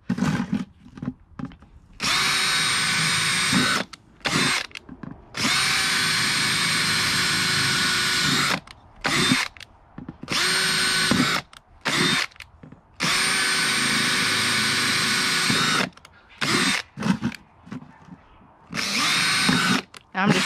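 A power drill bites repeatedly into a pliable, heat-softened plastic mop bucket under light downward pressure. About eight loud, close bursts of steady whine are heard, each lasting one to three seconds, separated by brief quiet gaps and handling sounds.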